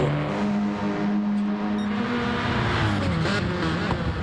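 Several race cars in a sim racing game, among them a Renault Megane, a Scirocco, a BMW and a Mazda 3, rev their engines loudly and steadily, with overlapping rising and falling engine tones and no talk.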